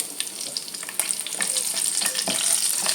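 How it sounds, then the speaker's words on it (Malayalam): Slit green chillies frying in hot oil, a steady bright sizzle with crackling pops that builds slightly, loud and close with no talking. "അതുപോലെ ഒരു 5-6 പച്ചമുളക് ഇങ്ങനെ ഒന്ന് കീറിയിട്ട്, മൊത്തത്തിൽ കീറിയിട്ടില്ല, ഇവിടെ മണ്ടവശം മാത്രം ഒന്ന് പൊളന്നിട്ട് നമുക്കൊന്ന് ഇത് ഫ്രൈ ചെയ്തെടുക്കാവേ"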